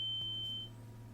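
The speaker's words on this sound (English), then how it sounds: "And then you hear a loud ringing" A sharp, loud high-pitched ringing tone, like a gunshot-deafened ear ring, sounds alone for about half a second over a low steady hum, then cuts out leaving the hum.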